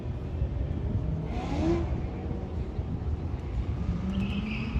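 Roll racing cars, including a nitrous Corvette, accelerate hard at SCT 2021 at zMax Charlotte, a steady loud engine roar with rising tones that fills the whole stretch, no talk over it.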